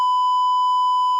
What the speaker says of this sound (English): My fire alarm going off.